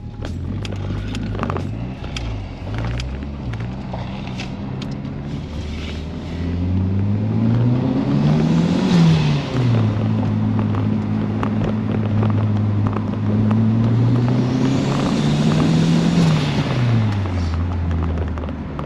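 A Nissan Sentra B13 with a turbocharged GA16DET engine drones steadily from inside the cabin, its pitch climbing as it accelerates through the gears, then easing and rising again.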